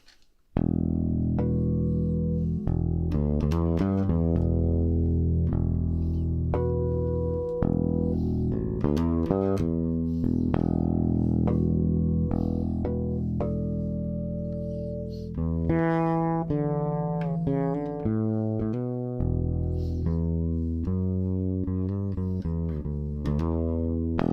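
Modified electric bass played alone in a run of notes and riffs, clean but full-bodied, steady and fairly loud throughout with no talking.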